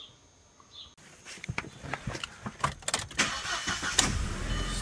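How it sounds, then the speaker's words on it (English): A VW or Audi car engine cranks and catches after a quiet moment, then revs unevenly and settles toward a running idle, close and fairly loud, with some rustling and handling noises around it. "Start the car."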